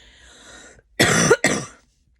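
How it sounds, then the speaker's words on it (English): A woman gives two sharp, close coughs in quick succession, left over from a cold, after a short breathy throat sound. "I guess I still have a little bit of a residual cough from my cold."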